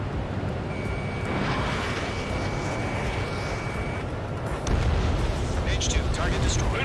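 A target is destroyed in an air combat video game, with a loud, rumbling explosion that roars steadily for several seconds and surges again near the end, mixed with a thin sustained tone and game effects.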